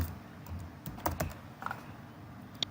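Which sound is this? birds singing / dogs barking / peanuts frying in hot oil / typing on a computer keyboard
typing on a computer keyboard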